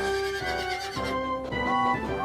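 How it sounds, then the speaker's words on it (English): A horse neighs in a long, loud whinny with falling pitch, heard close and alone within a Thomas the Tank Engine circus scene remade in Trainz. "Percy loved the horses."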